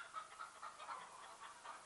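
Hens clucking, a few birds giving soft, repeated short calls close by at low volume, with no talk.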